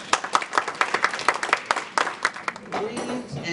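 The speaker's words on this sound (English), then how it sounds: "Give her a round of applause." An audience at a stamp collectors' 30th-anniversary gathering gives a thin, evenly paced round of clapping that softens and gives way to a voice at the close.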